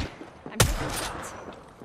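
A single sharp gunshot cracks out in a video game amid background game sounds, loud and sudden, followed by a short fading tail.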